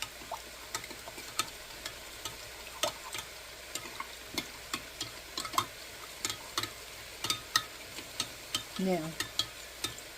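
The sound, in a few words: stirring chicken stir fry in a pan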